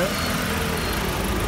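A 2003 Nissan X-Trail automatic four-wheel-drive petrol engine runs at a steady idle close by, a constant even hum with no changes in pitch.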